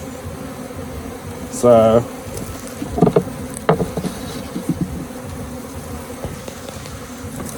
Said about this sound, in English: There's a lot of bees still here in the frames